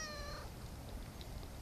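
A cat gives a single short meow at a water tower site, heard close at the very start, then fading into a quiet outdoor hiss with no talking.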